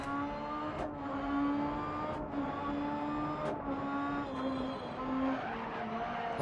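An Opel Corsa Super 1600 rallycross car in the DiRT Rally video game drones at high revs as its tyres skid and scrub through corners. The engine note is continuous and close, with a few short dips as the car shifts gear.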